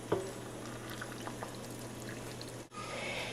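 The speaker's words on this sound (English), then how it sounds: "so you add your boiling water to each jar up to that lower rim" Boiling water poured into canning jars packed with salted ground beef, a steady liquid pour running for about three seconds, close and moderately loud over a low constant hum, with no talking.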